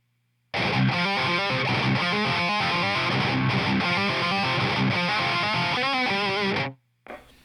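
Gritty distorted electric guitar churns through a steady, rhythmic riff for several seconds, loud and close, then stops abruptly.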